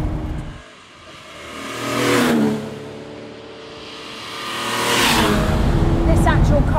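A Ferrari V12 front-engined quad-cam engine revs twice, swelling loud, dropping back to a steady idle between, then climbing again to a sustained high roar near the end.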